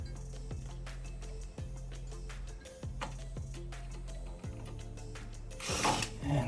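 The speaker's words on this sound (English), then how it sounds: "I'll tighten up all 3 screws" Screws tightened on a Modern Forms Skylark ceiling fan with a ratcheting tool, repeated close-up clicking strokes in a steady rhythm, ending in a louder rattling burst.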